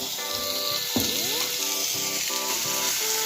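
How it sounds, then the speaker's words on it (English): Oxtail pieces searing in a hot pan while cooking a Jamaican oxtail stew give a steady, close sizzle with a bright crackling hiss that continues throughout. "Let's sear these babies."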